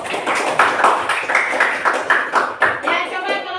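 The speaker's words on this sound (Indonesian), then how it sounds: "Berikan aplaus dulu kepada kelompok 1." Classroom applause for the first student group after their presentation, a steady patter of hand clapping from many pupils filling the room for a few seconds, with some murmured voices mixed in.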